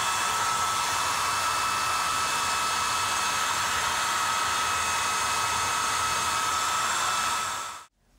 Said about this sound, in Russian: Сейчас хочу подать в область заслонки горячий воздух обыкновенным феном.